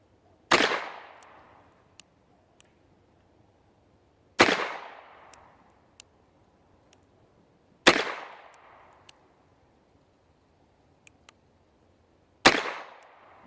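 Four loud, sharp shots from an H&R Model 925 .38 S&W revolver fired double action, evenly spaced a few seconds apart, each ringing out with a decaying echo, with faint clicks between them.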